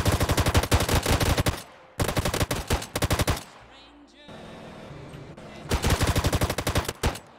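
Rapid automatic gunfire during a drive-by in Grand Theft Auto: San Andreas Definitive Edition, in loud sustained bursts separated by short pauses and engine noise.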